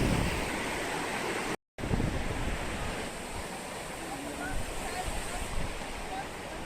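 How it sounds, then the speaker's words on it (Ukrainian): A river rushes hard beneath a bridge in Sligo, Ireland, a steady broadband roar of turbulent water that carries on throughout, with a brief dropout partway through. "бурно бурлить річка під мостом"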